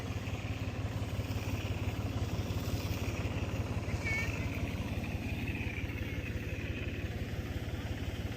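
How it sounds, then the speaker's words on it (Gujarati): A tractor-driven water pump runs out in a farm field, a steady, loud, throbbing engine drone that holds unbroken throughout with no pauses. "આ અમારે ટ્રેક્ટર પંપ ચાલુ છે"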